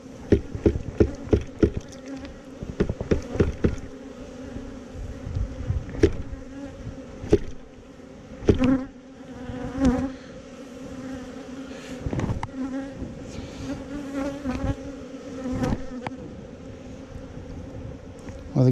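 Bees from a split colony hum steadily around the hive while being fed thick syrup. Wing-buzz drones continuously at close range, and individual insects swell loudly past the microphone again and again. A faint breath of wind sits underneath. No one speaks.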